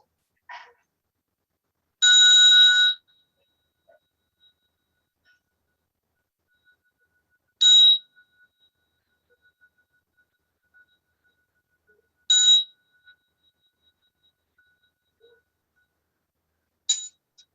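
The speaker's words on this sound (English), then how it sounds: "Unmute so we can hear the bell." A meditation bell is struck for a Buddhist Dharma opening verse during an online gathering: a few clear, ringing metallic tones spaced several seconds apart, each decaying slowly into near silence.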